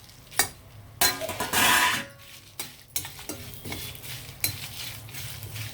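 Ingredients for Andhra-style cactus leaf (nalleru) chutney are stirred in a frying pan, with a utensil clinking and scraping against the metal in uneven bursts over a soft sizzle, close and fairly quiet.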